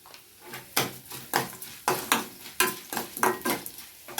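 Onion pieces dropped into hot oil for Telugu majjiga charu, giving a steady close sizzle broken by repeated stirring and scraping strokes against the pan, with no talking.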